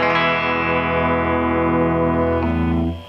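An IYV IS-200 SB electric guitar on its GFS bridge pickup rings out a single sustained, distorted chord with rich harmonics, holding loud and steady before being cut off near the end.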